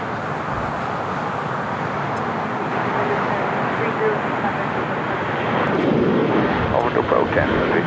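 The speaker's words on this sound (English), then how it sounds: "It's Dassault Falcon 50 EX." Dassault Falcon 50EX business jet at LAX, a loud continuous engine roar with a broadband rush that grows slightly stronger in the last seconds, with people talking over it.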